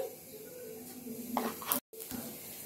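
Panch phoron seeds hit hot mustard oil in a pan and sizzle softly, a low crackle with a brief spatter near the middle.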